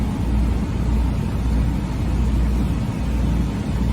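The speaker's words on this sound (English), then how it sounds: "now that the truck is running, it's building air" A truck's diesel engine idles steadily after starting while building air pressure during an in-cab inspection, a constant low rumble heard from inside the cab with the windows up.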